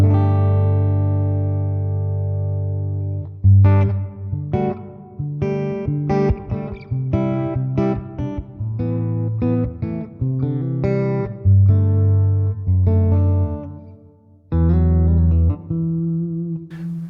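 Clean electric guitar played through a Fender Deluxe Reverb tube amp, a run of picked single notes and chords with sustained, warm tones and gaps between phrases.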